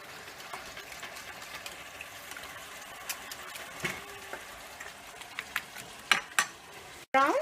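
Ground meat for pastitsio browns in a pan with cinnamon stick, a faint low sizzle and occasional stirring scrapes, with a few sharper clinks and bubbling bursts toward the end.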